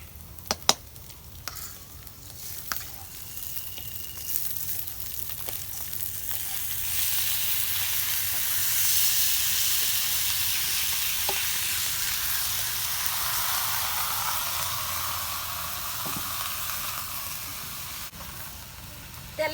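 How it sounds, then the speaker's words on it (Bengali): Pre-fried rice added to hot oil and stirred for beef biryani, a continuous loud sizzle and hiss that swells midway, with scattered clicks of a spoon against the pot, close up. "মধ্যে আমি চালগুনা দিয়া দিচ্ছি এখন আমি ভালো করে মিক্স করে নেব"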